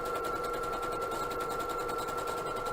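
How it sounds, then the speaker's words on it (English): A sewing machine runs an overcast stitch through knit fabric with an overcast presser foot, giving a steady, fast mechanical whir with a constant humming tone and rapid needle ticking, close and continuous without pause or talk. "so just start sewing"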